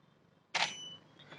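A single sharp camera shutter click fires in manual mode, close and crisp, with a short mechanical tail and faint follow-up sound, otherwise quiet.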